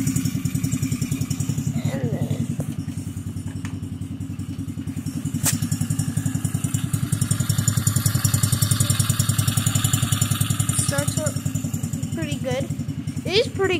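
Small T-Rex go-kart engine idling in cold weather right after starting, a steady close putter throughout with a voice talking over it.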